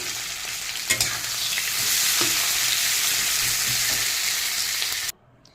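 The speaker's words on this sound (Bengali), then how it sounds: "পেঁয়াজটাকে আমি বেশ করে ভেজে নেব।" Onions frying in oil in a wok make a loud, steady sizzle with a few soft stirring knocks, then cut off abruptly near the end.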